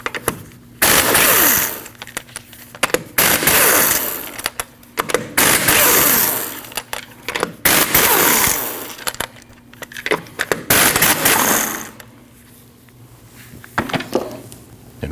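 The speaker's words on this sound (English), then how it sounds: "you need to remove your 5 lug nuts" An impact wrench spins off 19mm lug nuts from a 2003-2008 Subaru Forester front wheel, giving several loud rattling bursts of a few seconds each, separated by short pauses, close up with no talking.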